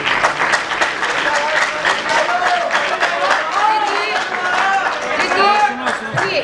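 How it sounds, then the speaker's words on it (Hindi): Loud, sustained applause from a large crowd at an awards ceremony, dense clapping throughout with a murmur of voices and cheering mixed in. "उसमें बलवीर जी प्रथम पुरस्कार के लिए तालियां बजाइए जोरदार।"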